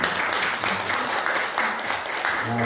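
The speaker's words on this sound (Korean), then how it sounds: "뒤로 돌으셔서 크게 인사하시면 박수 한번 해주시고요" Church congregation applauding during a Sunday service infant baptism, steady dense clapping from a crowd that fills the whole stretch at an even level.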